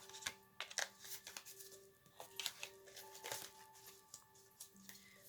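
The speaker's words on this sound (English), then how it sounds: "do one more shuffle for that" A deck of playing cards is shuffled by hand, giving a run of quick riffling and slapping bursts in irregular rhythm, close and fairly quiet, with soft music in the background.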